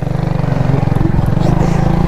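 An Irbis Virago 110 Alpha moped rides over rough off-road ground, its engine a loud, close, steady buzzing drone that holds throughout with slight wavering.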